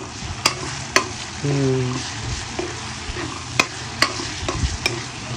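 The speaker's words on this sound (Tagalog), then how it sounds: "Ayan ang ating tomato sauce dahil tumatalsik-talsik na siya. Kinakabahan na ako ulit. So, haluin lang natin yan." Tomato sauce for picadillo spatters and bubbles in a pan while a spoon stirs it, with sharp scraping knocks against the pan, a brief tonal scrape, and steady sizzling underneath.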